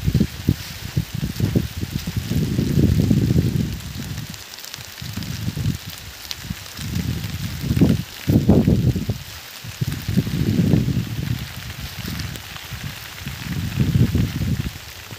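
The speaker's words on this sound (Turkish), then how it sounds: "Bu da böyle yağmurda bir video olsun." Steady rain comes down over a garden of flowers and succulents, a dense hiss with rising and falling heavier gusts of drops hitting leaves and surfaces close by.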